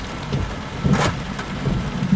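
Heavy rain pours steadily during a Florida thunderstorm in July 2007, with low rumbles of thunder rolling beneath the constant hiss and a brief louder burst of downpour midway.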